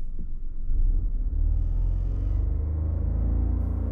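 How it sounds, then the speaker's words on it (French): A car engine revs up past 3000 rpm before the clutch is released, a steady, loud, close rumble that climbs and holds with no talking. "Je monte à plus de 3000 tours minute."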